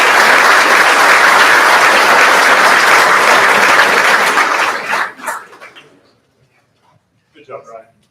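Crowd at a fire-rescue academy recruit graduation clapping loudly and steadily for about five seconds, then fading out into near silence, with a few brief voices after it ends.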